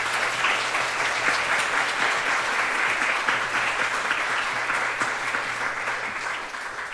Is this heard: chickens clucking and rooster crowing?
no